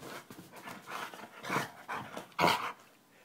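A puppy pants rapidly and close, with quick breathy huffs rising and falling in bursts and one stronger puff near the end, with no talking.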